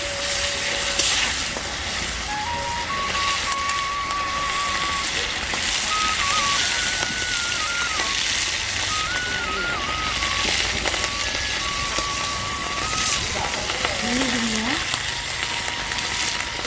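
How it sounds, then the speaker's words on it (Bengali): Ginger-cumin paste fries in a pan for a broccoli dish, giving a continuous loud sizzle and hiss with faint tonal sounds drifting through the background. "আদা জিরার পেস্টটা একটু ভেজে নেব।"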